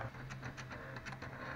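A homemade plotter converted from an inkjet printer draws, its small motor whirring and carriage clicking in quick irregular bursts, faint and close over a low steady hum.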